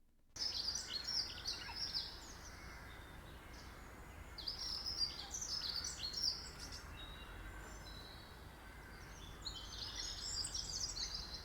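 Chirping birdsong plays back steadily, a bright twittering in repeated bursts over a constant low hum and background noise, with no talk.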